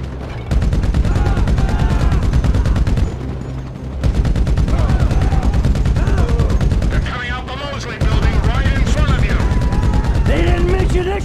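Rapid gunfire in a GTA 5 shootout, dense continuous volleys of loud shots hammering nearby with brief pauses, while voices shout over the shooting.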